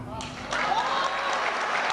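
Audience applause at a motivational seminar, a steady wash of many hands clapping that swells louder after the first half second and continues under a speaking voice.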